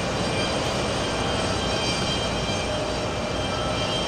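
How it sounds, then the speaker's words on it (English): A Delta Airbus A330-300 jet takes off down the runway at JFK Airport, giving a loud, steady engine roar that stays constant throughout, with no voices. "Racing down the runway. It's going to be an A330-300."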